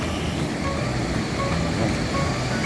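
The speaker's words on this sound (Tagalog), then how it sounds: "Ito yung alon dito sa San Juan." Ocean waves wash at San Juan beach in La Union, a steady broad roar of surf close by with no clear break between swells.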